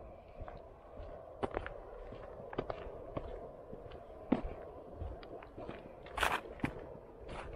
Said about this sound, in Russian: Были заморозки на лужах, небольшой лед. Слышите, наверное, как хрустит.